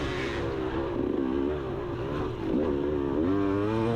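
A vintage motorcycle ridden close behind during an off-road race, its engine droning steadily with rising and falling revs, loud and near throughout.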